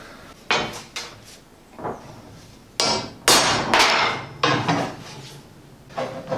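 Hammer blows on metal for a garden rose arch, a series of sharp, loud ringing strikes in uneven rhythm with short pauses between, close by and with no talk.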